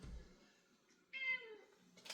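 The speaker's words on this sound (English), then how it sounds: "Nosy, curious cat, of course." A nosy, curious house cat meows once at close range, a rising and falling harmonic call standing out against quiet room tone.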